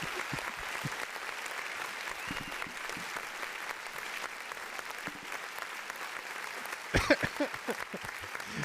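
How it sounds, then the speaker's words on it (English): Applause and cheering from a crowd ring out continuously, with a brief louder burst near the end. "I need the applause."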